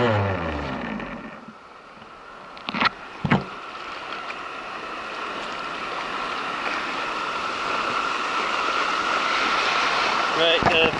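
Ocean surf breaking on a beach during surf fishing, a steady hiss of waves and wash under wind, with a couple of sharp knocks early and a rising surge near the end.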